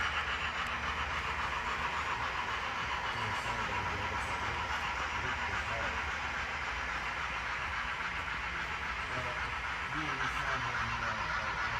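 Electric Limited model train with a custom sound file, a steady hissing rail rumble running continuously at moderate level throughout, with no distinct horn or bell.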